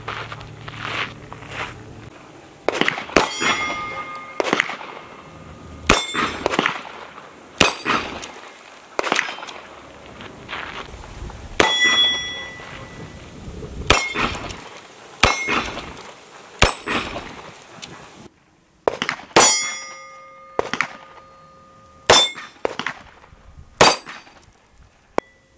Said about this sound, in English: I'm going to shoot at the steel first with a 38 Special Plus P.